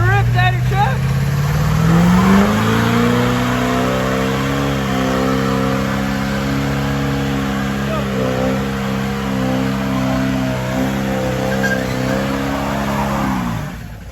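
A truck engine revs hard and sustained through a burnout at a truck meet, its loud, steady roar holding a high pitch after an initial climb, with people talking in the background.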